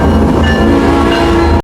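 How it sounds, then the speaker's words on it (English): A train rolls past an old apartment building, a loud, steady rumble of wheels and cars that runs without a break and then cuts off abruptly. "Every single time a train passes by, the sound of the train does not just disturb her"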